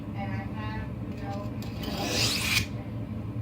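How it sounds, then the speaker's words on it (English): A knife blade rubs across a wet sharpening stone in a steady, gritty scraping stroke that swells toward the end, close up and moderately loud, with no one speaking. "I'm just sharpening it right now."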